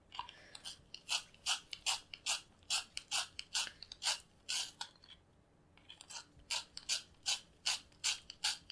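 A Prismacolor 90% gray colored pencil is turned in a sharpener, giving a close, steady run of repeated grinding-clicks in two bursts separated by a short pause, with no talking.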